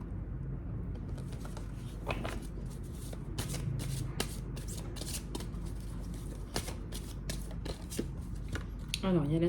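Tarot cards are shuffled and laid out on a table in a series of close, crisp riffles and soft slaps, with a quiet voice speaking intermittently.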